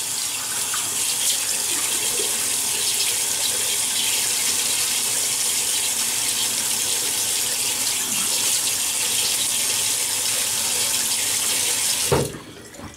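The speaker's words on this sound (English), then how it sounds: "so let me wet the face." Tap water runs steadily from a faucet into a sink while the face is wetted before a double edge safety razor shave, a continuous close gushing hiss that cuts off sharply near the end.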